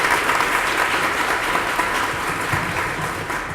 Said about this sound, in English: Stand up and receive the applause of our people.